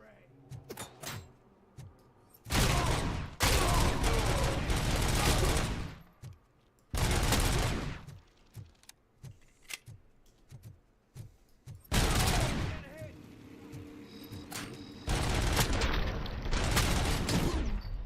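Bursts of machine gun fire in the RoboCop video game, several loud sustained volleys separated by pauses, with someone talking between and over them.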